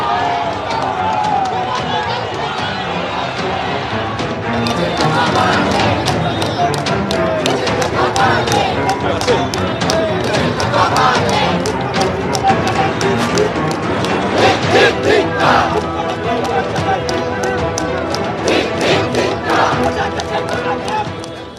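Rival political processions on a street, a dense crowd chanting slogans loudly and continuously, many voices merging into a roaring mass with rhythmic shouts and bursts rising and falling over about twenty seconds.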